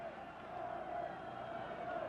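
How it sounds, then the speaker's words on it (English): A kickboxing fight crowd roars, a steady, fairly distant wash of many voices with a sustained cheering tone running through the whole stretch, no clear speech on top. "The crowd roars"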